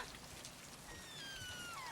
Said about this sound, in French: Cette pluie ne finira donc jamais.